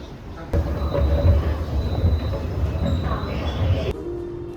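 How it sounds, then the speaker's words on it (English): A Shanghai train runs on its rails with a loud, close rumble and rhythmic clatter, faint whines riding above, before the noise drops abruptly near the end to a quieter hum. "I hopped on the train to get to my next destination"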